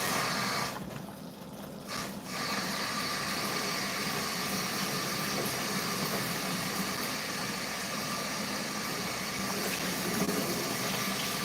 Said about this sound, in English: the reason I rinse my canned beans is I don't like the thick stuff